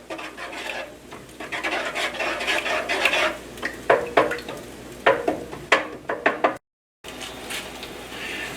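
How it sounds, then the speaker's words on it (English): A spoon stirs red curry chicken simmering in a pot, giving repeated scraping knocks against the pot over a soft bubbling sizzle, fairly close and quiet, with a brief silent gap near the end. "And give them a stir. Bring everything up to a simmer."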